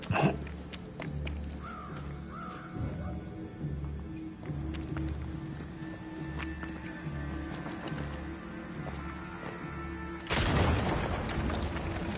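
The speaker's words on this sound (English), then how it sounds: "Bugger off, crows." Crows caw in the video game Banishers, a few harsh calls early on over a low rhythmic thudding of footsteps, with a louder burst of noise near the end.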